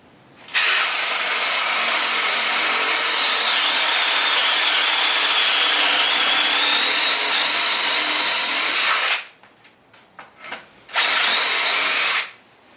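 A power drill bores into wood with a loud, steady whine for about eight seconds, stops briefly amid a few small knocks, then runs again in a short second burst.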